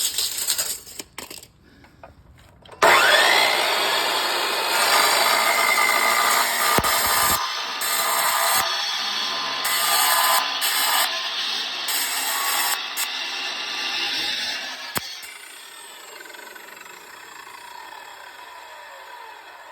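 A saw cuts through a gantry crane beam built for a Caterpillar D2 project, finishing the cut after the beam was flipped over. After a few seconds of handling noise, a harsh, steady, grinding rasp runs for about twelve seconds with brief dips, then stops, leaving a fading ring.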